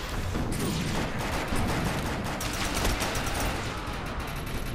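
Rapid automatic gunfire from a weapon in the video game Defiance rattles in a dense, continuous burst, loud and close, for the full stretch without pause.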